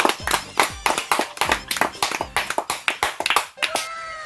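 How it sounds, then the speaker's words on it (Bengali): A small group claps in quick uneven bursts to welcome a local MP, with sharp close hand claps in a rapid rhythm, ending in a brief tonal sound, and no clear talk. "এমপি সাহেবকে বরণ করে নিই। তোমরা সবাই জোরে হাতে তালি দেখাও।"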